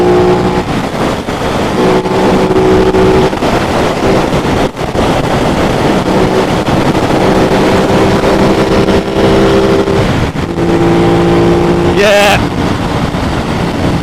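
An Aprilia RS660 sport motorcycle fitted with K-Tech suspension rides on an open road, its engine droning loudly and steadily under heavy wind rush, with one brief word spoken near the start.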